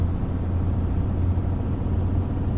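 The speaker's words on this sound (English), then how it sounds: "The engine's working overtime." A heavy truck engine in Euro Truck Simulator 2 labours uphill in gear, a constant low droning rumble that stays steady and loud throughout without pause.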